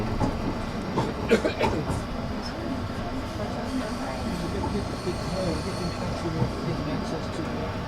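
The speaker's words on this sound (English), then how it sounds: "it's a funny looking train" A fun fair train ride runs along its track in Eastern Europe, giving a steady low rumble with some faint clattering and a few louder knocks, while people talk nearby.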